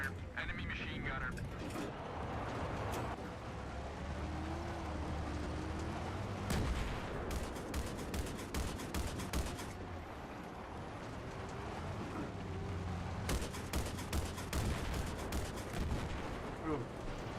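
Enemy machine-gun fire in Battlefield 3 on Xbox 360 crackles in two rapid bursts amid a rumbling battlefield din, with low voices mixed in.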